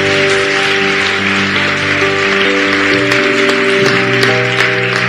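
A church congregation claps steadily and loudly for several seconds during a service, with sustained music and organ-like tones underneath.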